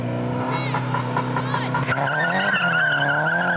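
Honda S2000 engine revving hard in a JDM drag race, a loud rising wail with tire squeal, heard under excited commentary.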